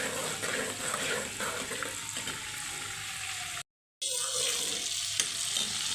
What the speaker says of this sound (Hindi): अब हम इसके अंदर साबुत ज़ीरा ऐड कर देंगे। इसको थोड़ा सा हम फ्राई करेंगे।